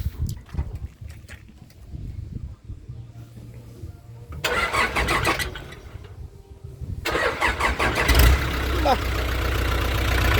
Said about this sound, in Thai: ฟังเสียงเครื่องมั้ย